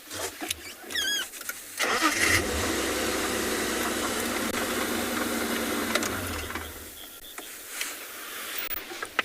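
A safari vehicle's engine cranks and catches. It settles into a steady, fairly loud running rumble for several seconds, then drops away near the end.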